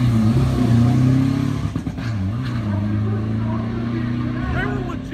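A turbocharged ex-school van converted to an ambulance accelerates hard at a drag race in Thailand, its engine note climbing in pitch and stepping through no-lift gear shifts, loud and close, with excited voices talking over it.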